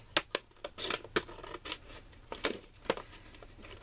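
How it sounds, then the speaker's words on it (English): Scissors snip through plastic packaging, trimming off the edges in a handful of faint, crisp cuts at an uneven pace. A soft crinkle sounds between the snips in an otherwise quiet room. "I cut it down. I cut off the edges,"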